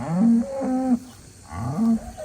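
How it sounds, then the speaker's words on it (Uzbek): A red-and-white pied hybrid dairy cow, three days after calving, lets out two close, loud moos with a short gap between them. "Bu ola qizil gibrid sigirimiz"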